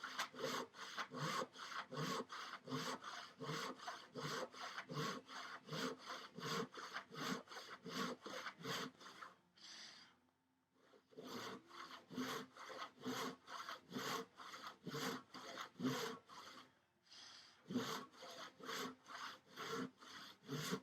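A hand saw cutting workbench top boards to length, rhythmic back-and-forth strokes rasping steadily and close, with two brief pauses before the strokes resume.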